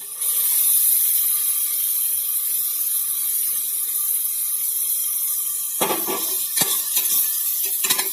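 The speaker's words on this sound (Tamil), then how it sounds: "இப்போ அரைச்சி வச்ச பேஸ்ட்டை ஊற்றிக்கிடுவோம்" Ground mint paste poured into a hot pan of sizzling sautéed onions for village mint rice, a steady hissing fry with a few wet splashes and clatters near the end.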